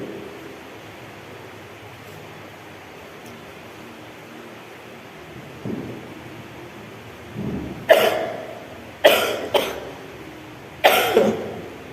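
Four short, sharp coughs in quick succession near the end, following a long stretch of quiet room hiss.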